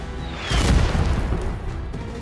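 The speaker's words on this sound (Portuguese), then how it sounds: "Artilharia!" Artillery fire in the war game Last Train Home lands as a single heavy boom with a rumbling tail, loud and close over a noisy battlefield background.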